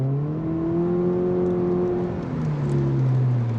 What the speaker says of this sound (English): First and foremost, we love that boxer rumble.